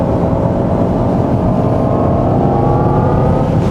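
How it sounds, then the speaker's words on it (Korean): Jaguar I-Pace electric SUV (2019) accelerating hard on a winding road, a rising high-pitched electric motor whine over a dense rumble of road and tyre noise, loud and steady from inside the cabin. "지금은 조금 더 그 가속 페달을 밟으니까 아까는 좀 다른 차원으로 이동하는 소리를 냈다면은 지금은 좀 UFO가 이륙하는 것 같은 그런 소리를 좀 냅니다."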